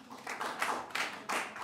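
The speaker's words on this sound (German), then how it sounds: "Bitte einmal klatschen." A small audience claps briefly in several bursts, a loose scattered patter of hands rather than full applause, fairly close and with no talking over it.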